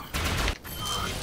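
SMG fire in the robot combat game Robocraft, a short loud rattling burst that cuts off abruptly, then a steadier mechanical wash returns.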